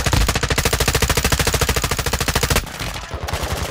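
Sustained automatic gunfire in the Call of Duty DMZ video game, a loud rapid burst of evenly spaced shots for about two and a half seconds, then a rougher, noisier stretch of combat sound.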